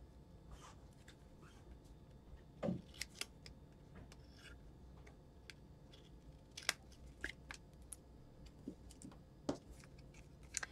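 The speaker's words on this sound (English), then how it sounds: "we'll cut off the pieces we don't need" Scissors cutting away excess paper from a handmade Christmas tag, quiet scattered snips and clicks spread across the stretch, some sharper than others, close by in a calm room.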